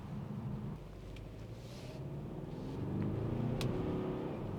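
The standard 2-litre diesel engine of a BMW X1 drones steadily from inside the car, building slightly in strength with some wind rush, and nobody speaks.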